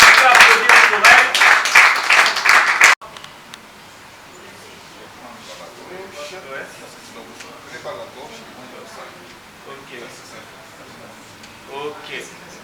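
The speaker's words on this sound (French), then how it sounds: "On peut applaudir pour elle." An audience at a scholarship award ceremony in Kinshasa breaks into loud clapping for a recipient, dense and close for about three seconds before it stops abruptly, leaving quiet room murmur and faint talk.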